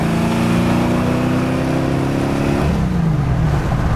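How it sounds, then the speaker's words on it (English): A Ford Shelby running FiTech dual-quad fuel injection drops a gear, engine note falling and then climbing as it accelerates hard, loud and close with a steady rumbling roar throughout. "I do a little downshift"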